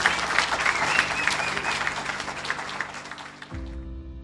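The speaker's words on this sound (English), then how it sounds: "Let's all join a round of applause for a class act lady." Audience applause at an evening community ceremony honouring a library director, dense clapping that fills the room for several seconds before cutting off abruptly into a low hum, with no speech over it.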